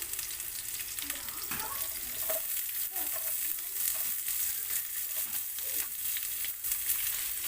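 Chopped green chili and onion frying in a pan, a dense, continuous close sizzle with small crackles and stirring sounds throughout, no voices.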